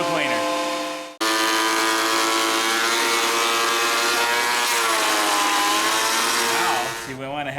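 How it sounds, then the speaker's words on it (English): A power wood planer feeds a board through with a loud, steady high-pitched whine that stops abruptly, then restarts and runs continuously before winding down near the end. "we got to run it a bunch of times through the planer"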